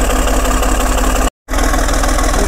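A Caterpillar RD6 bulldozer engine runs steadily at close range, a loud, rough, pulsing diesel rumble that cuts out abruptly for a split second before resuming.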